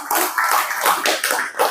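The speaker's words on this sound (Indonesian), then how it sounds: "Tepuk tangan untuk Bima dong." Children clap together for Bima, a quick uneven patter of hands close by, bursting in several rapid waves with no voices over it.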